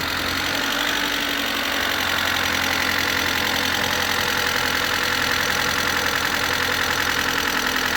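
An Opel Corsa 1.4 engine idles steadily nearby after cylinder head gasket repair, a constant rumbling hum with a faint ticking knock from the tappets running through it, and no one speaks.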